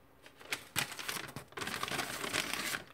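A paper menu sheet from a 1992 Australian Defence Force individual combat ration pack is handled up close, giving quiet, irregular crinkles and rustles with a few sharper snaps.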